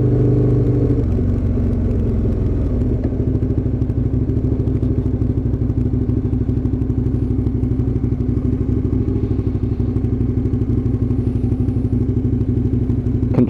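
Aprilia RSV Mille motorcycle on its first test ride on trade plates, a loud, close, continuous engine drone with a steady pulsing rumble, alone without talk.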